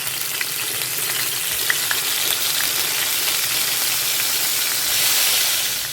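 Bhetki fish fries in hot white oil in a wok, giving a steady, dense sizzle and hiss close by, with a few faint stirring clicks and a slight swell in intensity near the end.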